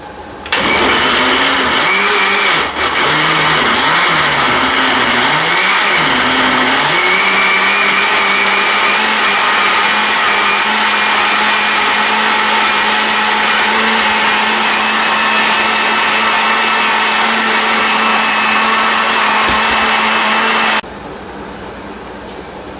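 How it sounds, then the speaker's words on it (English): Blender running at high speed while pureeing fire-roasted hot sauce, a loud steady whine that wobbles briefly at the start as the ingredients catch, then holds even for about twenty seconds before cutting off. "And then it's time to blend. You want this to blend very well, so this could take up to 5 minutes to blend it thoroughly"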